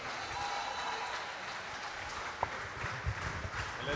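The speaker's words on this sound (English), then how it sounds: "Round of applause once again," Faint, distant applause from the crowd at a charity boxing competition after the winner is announced, a soft continuous patter of clapping with a couple of sharper knocks.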